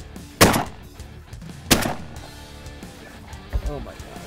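Shotguns firing while duck hunting outdoors, two loud booming blasts about a second apart and a fainter third shot later, with people talking and calls in between.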